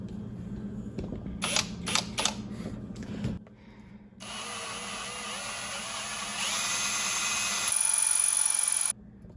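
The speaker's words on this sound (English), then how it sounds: "now we got our stepped drill bit" A power drill fitted with a stepped bit works on a traditional bow, starting with several short stuttering bursts, then a long continuous whine that grows louder in stages before stopping abruptly.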